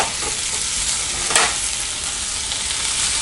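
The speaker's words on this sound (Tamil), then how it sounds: "வெங்காயத்தை நல்லா வதக்கிட்டோம். இப்போ நம்ம 2 தக்காளி ஆட் பண்ணிக்கலாம்." Onions and tomatoes sautéing for mushroom kuzhambu give a loud, close, continuous sizzle and frying hiss, broken by one sharp stirring clatter near the middle.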